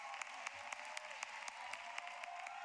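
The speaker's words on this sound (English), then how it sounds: "there's the applause, the love for the senior in his final regular season game" Crowd applause at a men's college basketball game honoring a senior in his final regular season game, a brief, fairly faint patter of clapping with a few sharper claps standing out.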